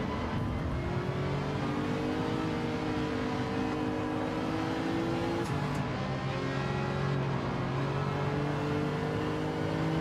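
Ferrari racing engine in Gran Turismo 7 revs steadily and loudly for the whole stretch, its harmonic drone rising, briefly dropping with a gear change midway, then climbing again, with no talk over it.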